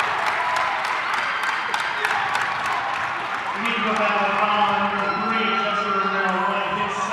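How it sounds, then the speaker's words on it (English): A high-school boys' basketball crowd in a gym roars loudly and steadily throughout, with applause and shouting building near the end of a close game as free throws approach. "And the crowd's going nuts right now."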